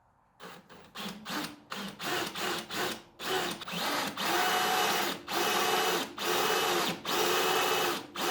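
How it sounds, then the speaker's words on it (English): A power drill bores a hole through a wooden boat mast for a SCAMP build, loud and close, in repeated short bursts that lengthen into sustained grinding runs with brief pauses. "I drilled the hole through"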